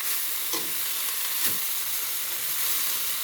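Bean sprouts (togi) fry in a pan with a loud, steady hiss and sizzle, broken by a couple of brief stirring scrapes, close up and with no voices.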